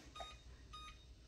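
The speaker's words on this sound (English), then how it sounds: "Set our timer" A kitchen timer gives two short electronic beeps while being set, quiet and close against faint room noise.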